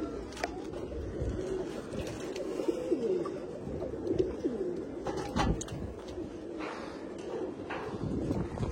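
Pigeons in a large loft in Kolkata coo repeatedly in soft, rolling, overlapping calls at close range, with light shuffling and occasional knocks around them and no voices.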